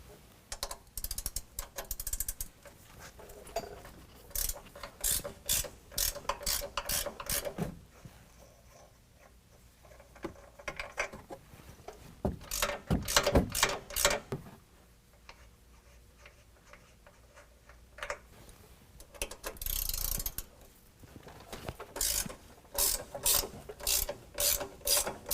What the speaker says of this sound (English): next we're going to use an 18 millimeter to remove all 3 nuts from the upper strut mount